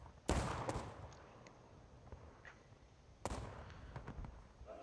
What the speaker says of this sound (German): Das Geschütz ist auch geladen.